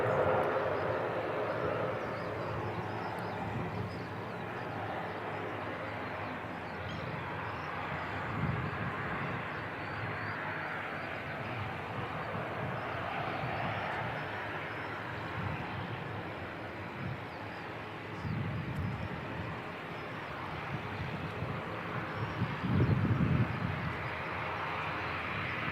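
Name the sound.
Dash 8 turboprop airliner departing Christchurch Airport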